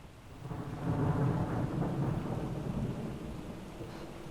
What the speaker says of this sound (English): That storm is getting closer.